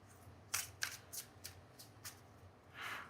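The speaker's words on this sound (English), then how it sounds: "I'm just going to shuffle them up as good as I can" A deck of foil trading cards is shuffled by hand in a quiet room, with several quick riffles and snaps in an uneven rhythm and a longer rustling shuffle at the end.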